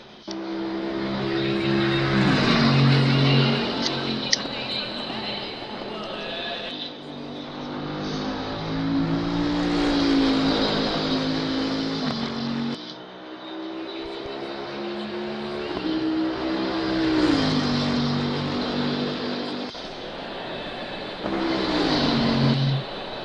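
A Bentley race car engine laps Monza in a racing game through its tight chicanes, rising and falling in pitch as it revs up, shifts and brakes, loud and close throughout.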